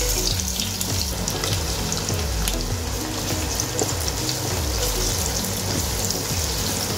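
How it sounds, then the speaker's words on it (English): Sliced onions sizzle loudly in hot oil in a pan, a dense continuous frying hiss with crackle and no talking. "Now I'll take another pan and I'll heat it with some oil. The oil is heated, and now I'll proceed to add in some sliced onions."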